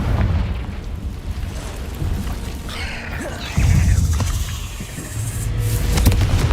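Confringo fire spell blasts in Hogwarts Legacy, played on PC inside a cave, producing loud booming bursts and crackling explosions over a steady rumbling game background.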